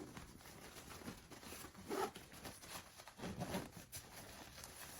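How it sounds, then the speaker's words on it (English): Zipper pulled around a fabric packing cube, quiet and close, in several short raspy strokes with pauses between them. "And then you just zip it up"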